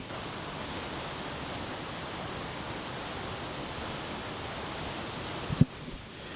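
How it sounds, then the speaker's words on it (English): Svartifoss waterfall in Skaftafell National Park: a steady, even rush of falling water heard from a distance, with a brief knock near the end. "So this is the Svartifos waterfall."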